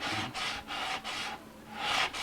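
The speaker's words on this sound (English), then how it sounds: "And this is just some 80 grit." Rhythmic back-and-forth strokes of 80 grit sandpaper rubbing guitar wood on a 1964 ES 335 style build, about five even passes, close and alone, the last stroke slightly louder.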